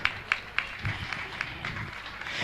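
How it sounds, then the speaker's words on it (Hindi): Applause at a Jain religious gathering for Shanka Samadhan with a Jain monk, with scattered claps and a broad crowd wash running underneath. Voices murmur through it, and the clapping stays fairly soft and distant. "तालियां बजाएं आपकी"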